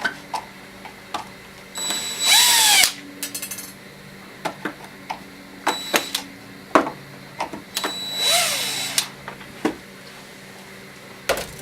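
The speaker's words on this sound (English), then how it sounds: "I prefer to use power tools because it's quicker." Short whirring bursts of a power drill driving screws into an air compressor case, two longer runs among scattered clicks and taps of tools being handled nearby.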